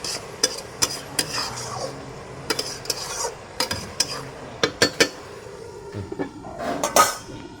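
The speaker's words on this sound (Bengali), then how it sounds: "এই যে একটু নাড়াচাড়া করে দিই" Ash gourd curry is stirred in a metal pot, with repeated sharp clanks and scrapes of a spoon against the sides over a faint low sizzle, the strokes coming in an irregular rhythm close by.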